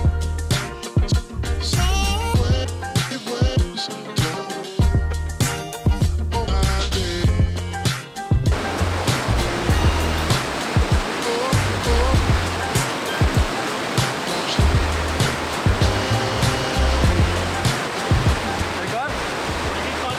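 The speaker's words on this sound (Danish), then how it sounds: "Der kommer lige nogle rigtig fede shots af vandfaldet her." Roaring water of Sweden's highest waterfall, a dense, steady broadband rush that swells louder and nearer partway through, with people talking faintly over it early on.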